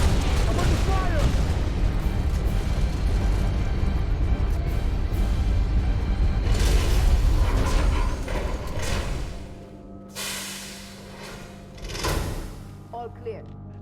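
Halo Reach gameplay: dense, continuous gunfire and explosion booms in a game battle, loud and sustained before easing into quieter rumbles and a few later blasts, with radio-style voices talking over it.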